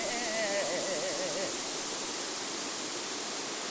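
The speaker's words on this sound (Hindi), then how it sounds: "तीस्ता का पानी" Flowing water of the Teesta river, a steady loud broadband rush throughout, with a faint wavering tone in the first moments.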